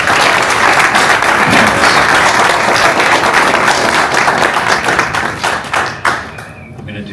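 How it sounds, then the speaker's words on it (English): Loud, dense audience applause at a panel event on teachers and Chicago's legacy, sustained for several seconds before tapering off near the end. "So let's give it a round of applause for them."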